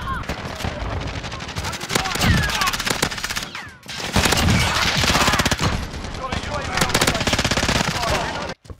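Loud, near automatic gunfire in a multiplayer shooter video game, long sustained bursts with a brief break midway, while a voice talks faintly underneath.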